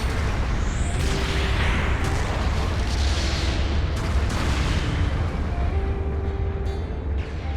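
Mobile suit combat in Gundam Battle Operation 2 brings a dense, continuous roar of explosions and gunfire, loud throughout with booming blasts layered over constant battle noise.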